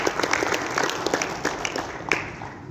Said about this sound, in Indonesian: Tepuk tangan untuk Ibu Anita.